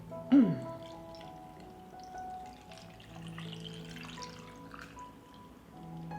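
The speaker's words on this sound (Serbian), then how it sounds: "I sada ću surutku sipati u teglu." Salted whey is poured into a glass jar, a brief splash at the start followed by a soft, faint trickle of liquid, with a quiet background.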